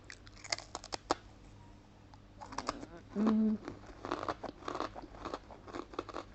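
Someone eats crunchy potato with herbs, producing close, irregular crisp bites and chewing crunches, with a few faint sounds in between.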